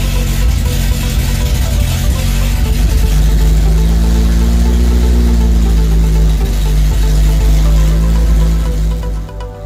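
A freshly built car engine with a carburetor and no exhaust fitted idles loudly and continuously up close, its deep throbbing drone swelling slightly in pitch midway through.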